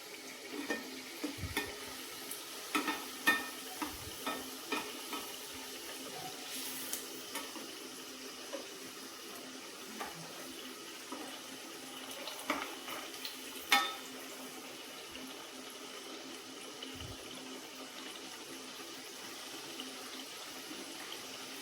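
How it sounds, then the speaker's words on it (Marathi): Sweet chakli fry in oil over a low flame, giving a faint steady bubbling sizzle with occasional soft stirring clinks and light handling taps, heard alone. "मंद आचेवरती आपल्याला याला तळून घ्यायचं आहे।"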